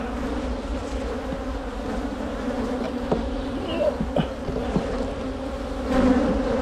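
A swarm of aggressive honey bees buzzes around an opened hive, a dense, steady drone close by with individual bees whizzing past now and then, growing louder toward the end.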